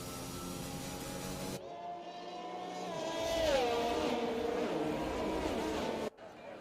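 Formula 1 cars in an F1 racing video game at the Italian GP streak past behind a safety car, engine whine rising and sweeping through in a Doppler pass, steady engine drone under it.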